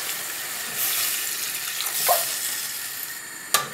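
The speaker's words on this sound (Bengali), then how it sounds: "আমি 1 কাপ পরিমাণ পানি দিচ্ছি।" A cup of water poured into a hot pan of spiced mushrooms gives a soft rushing hiss with a brief splash, ending in a sharp clink of the cup or utensil.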